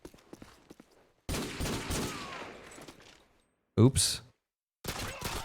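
Gunfire from Call of Duty: Modern Warfare 2 on PC during a boat chase, dense bursts of shots in two loud stretches separated by quiet gaps, with a brief spoken exclamation.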